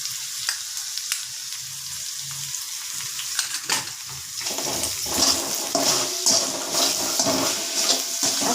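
Tomato chutney with garam masala, turmeric and salt being stirred in a pan, a steady sizzle and frying hiss that grows louder and busier midway, with scraping stir sounds, no talk.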